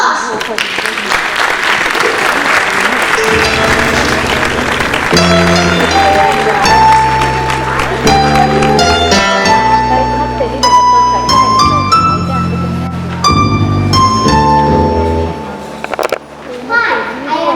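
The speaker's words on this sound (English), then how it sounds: "Please give a big round of applause." An audience claps and cheers at a children's drama final presentation, a dense steady patter filling the room, with children's voices mixed in and music joining under the applause after a few seconds.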